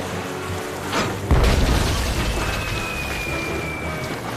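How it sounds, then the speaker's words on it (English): Cannon fire in the video game Tales of Monkey Island: a heavy boom bursts in around the midpoint, followed by a rumbling, crackling tail that lingers with a thin whistling tone, no talking. "Another cannon! Rapidamente!"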